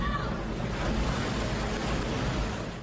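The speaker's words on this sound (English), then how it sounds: "Neighbors try to outrun a monster wave as water gobbles up sand dunes and fills the road." Heavy high surf crashes onto the California coast, with waves overrunning sand dunes and flooding a road; a loud, steady roar of breaking water continues throughout, with no voices.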